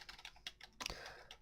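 Fast typing on a computer keyboard, a quiet run of clustered key clicks with a denser burst near the end, close and alone.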